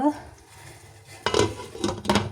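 A lid comes off a pot of fish curry with milk stirred in, making a couple of close metallic clanks and scrapes over a quiet kitchen background.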